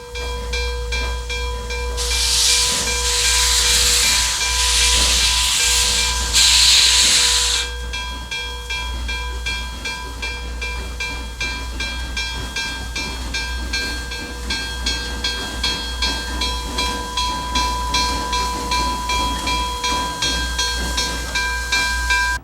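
Steam locomotive Nickel Plate Road no. 765 releases loud bursts of hissing steam, then settles into steady rhythmic chuffing as it pulls out, with a low engine drone throughout.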